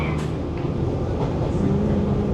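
JR Kyushu local train bound for Kokura rumbles steadily along the rails, a continuous low rolling drone with faint wheel noise from inside the carriage.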